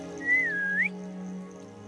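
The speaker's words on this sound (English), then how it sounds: "I wish I could whistle like that." A single clear, sliding whistle rises and dips over about a second in the Hogwarts Legacy video game, heard over a low steady hum and then fading.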